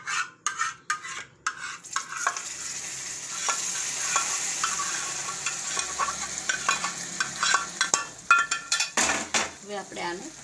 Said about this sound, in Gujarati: હવે આપણે આને હલાવી લઈએ. સરસથી મિક્સ કરી લેવાનું આને.